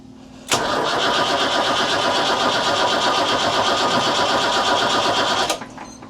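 A sailboat's engine is cranked by its starter in one continuous loud, even, rapid churning burst of about five seconds, stopping abruptly without catching because of a fuel problem.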